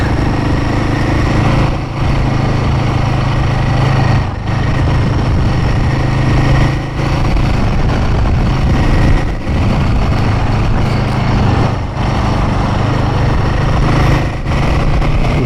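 A Royal Enfield Himalayan 450 motorcycle is ridden toward dual carriageway speed, its engine droning steadily and loudly up close with wind rush, dipping briefly at intervals as it shifts gears.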